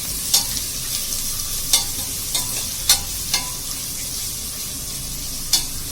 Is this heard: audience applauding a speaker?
no